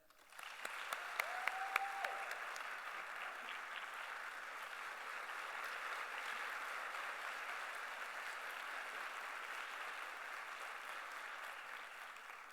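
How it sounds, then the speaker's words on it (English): Sustained audience applause for a woman being introduced at a citizens' assembly, a dense even wash of many hands clapping that starts abruptly and holds steady, with a brief tonal sound early on. "Please give a warm round of applause for Mrs."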